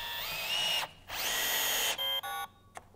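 A Festool drill drives a small screw at torque setting 10. The motor whirs in two close, fairly quiet bursts, then the clutch slips at the set torque with a short, rapid ratcheting chatter before it stops.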